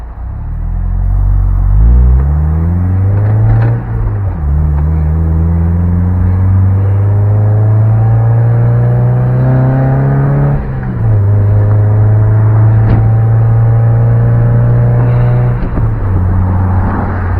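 A Mazda Miata engine in a driving game revs loudly and climbs through several gear shifts, each pull rising in pitch before dropping at the next change, with steady engine drone and no talking.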